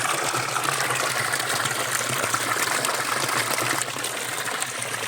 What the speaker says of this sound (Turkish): Bu çeşmeler güldür güldür akıyor.